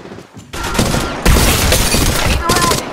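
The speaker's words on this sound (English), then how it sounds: "They're shooting at me." Dense, loud automatic gunfire in the mobile battle royale game Apex Legends Mobile, sustained bursts close up with a brief break near the start and a sharp surge midway.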